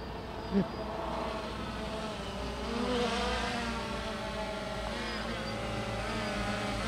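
A drone flying low overhead gives a steady, droning buzz with shifting whiny tones, continuous and fairly loud, with a brief knock early on.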